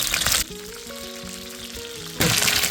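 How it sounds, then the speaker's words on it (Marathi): Oysters fry in hot oil with curry leaves, a loud close sizzle that gives way to a quieter stretch with a faint melodic tone before the crackling surges back. "तर त्यावरती मस्त फ्राय होतात कालवा"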